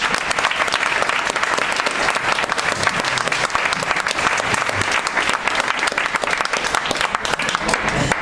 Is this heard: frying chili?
no